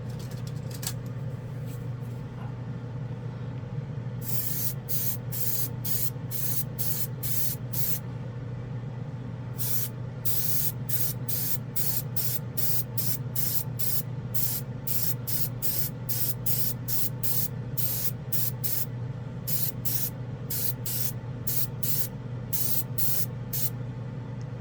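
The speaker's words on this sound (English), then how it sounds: "The airbrush does perform very well." A budget airbrush sprays paint onto a black spoon in repeated short bursts of close hiss, some quick, some held longer, over a steady low background hum.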